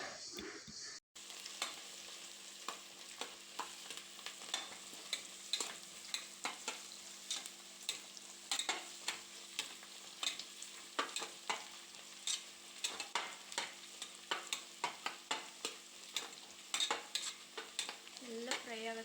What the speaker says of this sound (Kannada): ಹಾಕ್ಕೊಂಡು ಒಂದು ಸ್ವಲ್ಪ ಫ್ರೈ ಮಾಡ್ತಾನೆ ಇರಿ